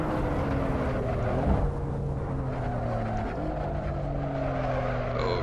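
A BMW M4 laps Laguna Seca in the Assetto Corsa racing game, its engine note climbing through the revs in repeated upward sweeps broken by quick gear shifts, loud and close, with no talk over it.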